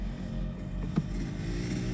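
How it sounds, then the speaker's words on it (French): Several engines rumble steadily at a distance in a tense outdoor setting, a constant low drone with a brief swell near the middle, no voices over it. "J'entends aussi des moteurs."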